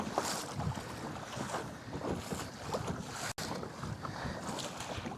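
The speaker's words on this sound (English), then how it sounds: "We're just fighting wind and wave today." Gusting wind and choppy waves buffet a fishing kayak drifting fast on open water, a steady rush of wind noise across the microphone with sloshing water throughout.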